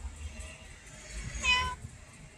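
A pet cat gives one short, clear meow midway, near and moderately loud against a quiet room with low background rumble.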